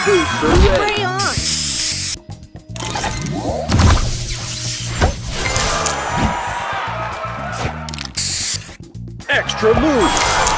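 Spray booster effects in the Match Masters mobile game hiss and burst amid chimes, clinks and crashes, with an energetic announcer voice calling out between the layered effects.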